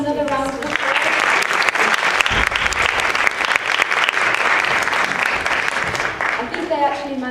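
An audience at a Mahila Day 2012 community event applauds a Manchester group with a sustained burst of dense clapping. A voice speaks briefly before and after it.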